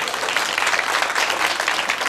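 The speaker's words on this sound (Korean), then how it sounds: "그럼 박수를 쳐야지라." An audience at a traditional Korean choboon-gut ritual performance on Jangsando island claps, giving steady, dense applause from a crowd at moderate distance. It runs continuously for about two seconds with no break or talk on top.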